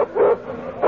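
Close, loud yips and whimpers from a dog in a radio drama scene come in two short bursts with a softer whine between them.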